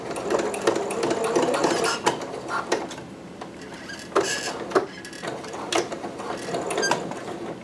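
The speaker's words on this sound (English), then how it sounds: "Now I'm back stitching." A home sewing machine back stitching on a McCall's 6701 dress: close, loud mechanical whirring with clicks and short bursts as the machine runs in spurts.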